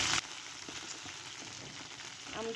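Chicken pieces for a curry fry in a pan, a steady crackling sizzle running throughout with a brief louder burst at the start and soft stirring clinks near the end.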